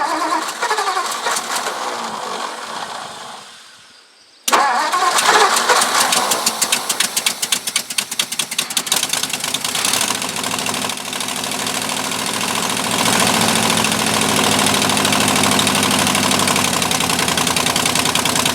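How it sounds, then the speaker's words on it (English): A 1958 Ford F600 truck engine cranks after a quiet stretch, then catches with loud rapid rhythmic firing that settles into a steady, rough, close idle. "I guess we'll try starting it up, and we'll see what comes out of here."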